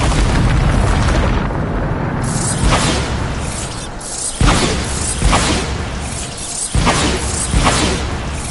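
Bombarda spell blasts in the video game Hogwarts Legacy, a dense barrage of loud booming explosions with sharp bursts at irregular intervals over a constant rumbling roar.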